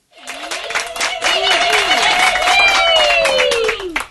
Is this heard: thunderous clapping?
yes